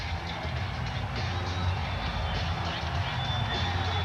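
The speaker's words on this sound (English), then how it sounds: "The crowd here cheering on the Orlando Magic with the best home record in the NBA in the regular season." A basketball arena crowd cheers on the Orlando Magic during a 1995 NBA playoff game against the Chicago Bulls, a steady broad roar of many voices filling the space, with some talking over it.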